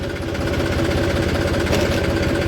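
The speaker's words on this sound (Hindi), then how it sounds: "बड़ी शानदार आवाज़ है मेसी फर्गूसन की" A Massey Ferguson tractor engine idles close by with a loud, steady diesel rumble and a fast regular low knock. No voices are heard.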